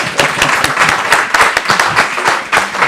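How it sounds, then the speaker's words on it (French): A small audience at a conference session applauds, with close, distinct individual hand claps forming a brief lively burst. "Je pense qu'on peut applaudir l'effort"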